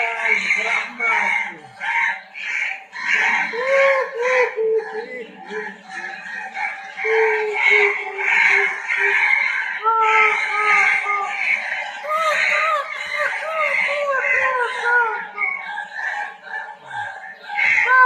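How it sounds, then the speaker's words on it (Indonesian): Crow-call ringtone with a spooky night-ghost theme, a dense run of repeated harsh bird cries and squawking calls layered over a busy, loud background, continuing steadily without pause. "Ringtone burung gagak. Nah, burung gagaknya marah."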